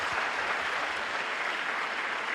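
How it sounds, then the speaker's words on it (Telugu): A church congregation claps loudly in praise of God during a live prayer service, a steady, dense applause that holds evenly throughout with no voices standing out. "గట్టిగా చప్పట్లు కొట్టి ప్రభుని స్తుతించాడు."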